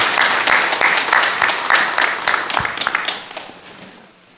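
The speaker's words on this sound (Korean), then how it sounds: "박수를 우리 하나님께 올려드리겠습니다." Church congregation applauding during a Sunday morning worship service, a dense burst of many hands clapping close and loud for about three seconds before fading out; no talk over it.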